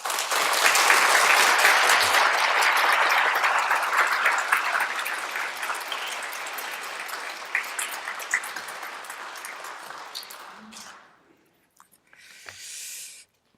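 A church congregation applauds to welcome the pastor before a Sunday sermon, the full, loud clapping sustained for about ten seconds before fading into near-silence and a brief soft rustle.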